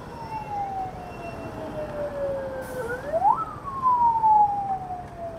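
A vehicle siren on a road near the Gwarko flyover in Nepal wails in long sweeping rising and falling tones, close and prominent over steady traffic rumble.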